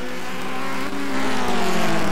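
Rallycross race car number 71 roaring past on a NASA RallyCross Challenge course in Canada, its engine loud and close with a steady high-revving drone building slightly as it accelerates.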